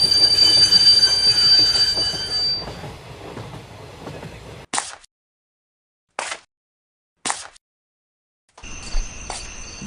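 A train pulls into Sealdah station with a shrill, high squeal of wheels over a rumbling roll that fades out. Silence follows, broken by a few short bursts, before the squealing metal returns briefly at the end.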